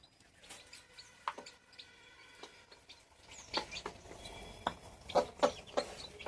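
Hens and chicks peck at feed made from nutritious flour, with soft clucks, scattered high chirps and light pecking taps spread irregularly across the scene. The sounds are faint and close, with no talking.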